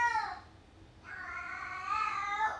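A pet cat meows loudly indoors during a home talk recording, giving two drawn-out, wavering cries separated by a short pause, close to the microphone.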